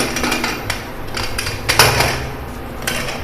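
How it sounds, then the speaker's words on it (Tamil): Metal lid of a pressure cooker being fitted and closed, a quick series of sharp clanks and clatters, the loudest near the middle, close and clear. "அதுக்கப்புறம் குக்கரை மூடிடலாம்"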